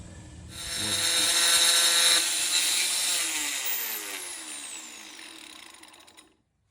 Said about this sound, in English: we're gonna cut this with the Dremel with that diamond bit, and we're just gonna run this along until we create a groove